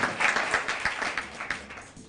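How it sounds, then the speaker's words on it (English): A round of applause from an audience at an anti-bullying launch event in a Hilton hotel, brisk, uneven clapping that swells and fades in loose bursts and tapers off toward the end. "they give another round of applause"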